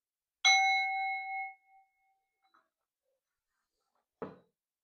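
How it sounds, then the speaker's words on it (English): A singing bowl gives a single bright metallic ring with clear overtones that hums on for about a second before fading, followed by a soft knock a few seconds later. "I'm gonna ring the sound bowl"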